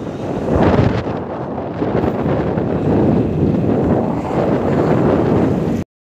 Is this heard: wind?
yes